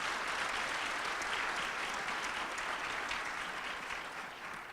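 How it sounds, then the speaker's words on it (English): An audience at a student recognition breakfast breaks into sustained, even applause, a full room of clapping that holds steady and then fades slightly toward the end, with no talk over it. "give yourselves a round of applause for being here"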